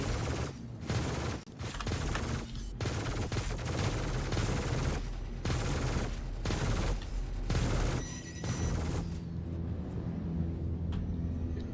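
Ship weapons in the Star Citizen space game fire in rapid repeated bursts, dense booming volleys broken by short gaps, loud and close, tapering off toward the end.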